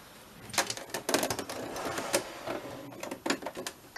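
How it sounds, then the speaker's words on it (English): A sewing machine stitches in short uneven bursts of rapid clattering, starting and stopping close by. "I will sew that onto that."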